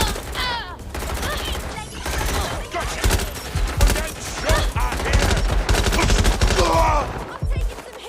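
Gunfire in the video game Watch Dogs Legion, dense rapid bursts of shots with overlapping impacts, loud and continuous, with brief voices mixed in.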